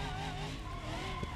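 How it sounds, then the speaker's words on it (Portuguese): Tires squeal and skid as a fast car in BeamNG.drive loses grip in fourth gear, a loud continuous scrubbing whine across the whole short burst. "O carro tá patinando de quarta marcha."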